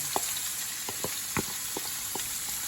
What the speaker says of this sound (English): So we're gonna put the onions in first.